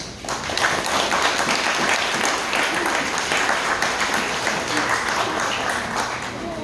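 Steady applause from an audience at an archaeology project gathering, a continuous wash of clapping that holds even and fairly strong throughout, with faint voices mixed in.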